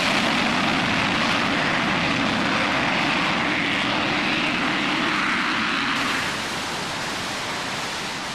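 A steady, powerful roar of a J-57 jet engine at full thrust with afterburner lit, broad and unbroken, dropping slightly in intensity toward the end.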